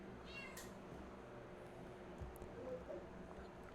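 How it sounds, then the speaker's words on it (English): A single cat meow, short and faint, rises briefly near the start over a steady low background hum. "It sounded like a cat."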